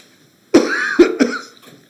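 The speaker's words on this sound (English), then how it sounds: "I'm not the only one with a cough" A few sharp coughs from a person at a town board meeting, close and loud, in a quick burst of three followed by silence.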